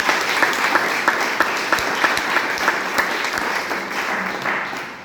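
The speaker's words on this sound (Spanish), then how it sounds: "Démosle un fuerte aplauso a Dios." A church congregation breaks into loud, sustained applause, a dense wash of many hands clapping close and steady for several seconds with no voices above it.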